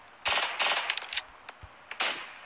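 Enemy gunfire in the video game Cyberika comes as sharp, loud bursts of rapid shots in three or four clusters, with brief gaps and a few lighter clicks between them.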